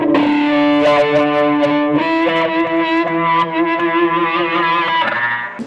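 An electric guitar played through a wah pedal and distortion, sustained overdriven notes and chords with a vocal, sweeping tone shifting across a few changes, loud and alone.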